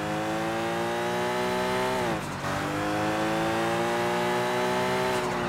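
Car engine in Sleeping Dogs droning steadily at high revs, dipping briefly around a gear change or lift-off and climbing again, loud and close with a short scrape near the end.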